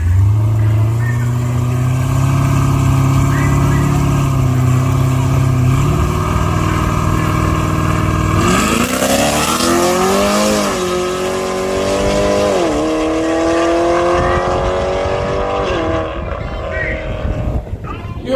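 Drag racing car accelerates hard down a U.S. drag strip. The engine roars loud and continuous, climbing in pitch through several shifts, with voices faintly mixed underneath.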